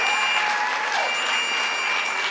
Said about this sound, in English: Let's give another round of applause to our incredible Governor